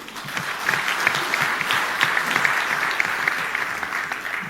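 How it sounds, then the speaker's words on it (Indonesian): Large crowd applauding at a party congress, a loud, even wash of clapping sustained throughout with no break. "Tepuk tangan dulu."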